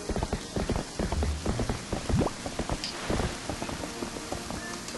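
Horse hooves clip-clop in The Legend of Zelda: Twilight Princess as the horse carries its rider toward a bridge, a steady run of quick hoofbeats heard alone against a soft background wash.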